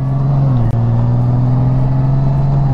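A 2019 Honda Goldwing DCT Tour motorcycle, towing a 2012 Time Out Deluxe camper, runs with a steady loud engine drone close by. Its pitch steps down once early on, like a gear change under acceleration.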